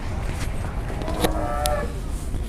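Cattle at a livestock market in Muntilan, with a broad steady murmur of the crowded yard and a couple of brief low calls rising out of the din.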